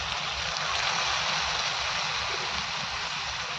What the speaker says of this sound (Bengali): হলুদ গুঁড়ো শেষে লবণ সিদ্ধ করার জন্য দিয়ে দেবো সামান্য অল্প জল